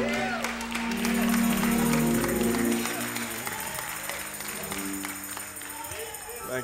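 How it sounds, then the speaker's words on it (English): Congregation applauding in a church service, a dense wash of hand clapping over organ and music for about three seconds before it thins out, with voices mixed in. "Give God a hand clap of praise in this building"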